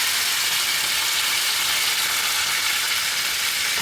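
Fenugreek leaves fry in a pan for a spinach dal, a dense, even sizzle of hot oil that holds steady and close throughout without any voices.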